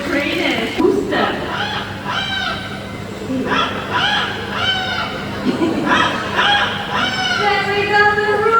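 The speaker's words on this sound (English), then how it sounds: "There we go, the rooster now" A rooster crows repeatedly among other honking and squawking birds at an outdoor bird show, several calls in close succession, fairly loud and near, with people talking in the background.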